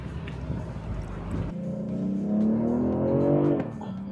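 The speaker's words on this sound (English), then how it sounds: "Now you've got these auto rev matches too when you step on the brakes." A BMW 840i on Big Island roads in Hawaii, its engine automatically blipping to match revs during braking; a steady engine drone swells into a rising, harmonically rich rev that holds loud and then cuts off abruptly.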